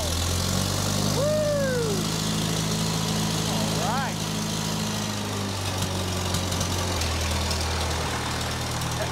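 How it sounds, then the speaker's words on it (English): An old Case tractor engine idles steadily while warming up, a low throbbing drone that carries on throughout with faint chirps in the background. "So I'm gonna go ahead and let the Case tractor warm up for a few minutes."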